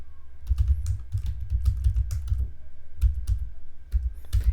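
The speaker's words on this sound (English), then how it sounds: "Now here I have to type some data." Steady typing on a computer keyboard, quick irregular keystrokes close by with soft clicks, continuing throughout without speech.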